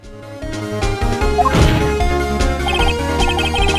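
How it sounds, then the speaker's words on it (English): Quick, evenly repeated electronic blips of text typing onto the screen in the video game Days Gone, ticking along over busy game music and a loud crash. "the sound of the text typing on the screen"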